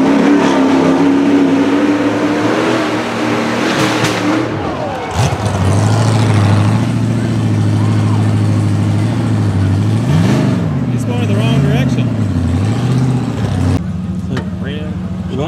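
A rock bouncer buggy with a healthy motor and long rear trailing arms climbs Bounty Hill at a race. The engine roars loud and close, rising and falling as it revs in bursts, while a commentator talks over it.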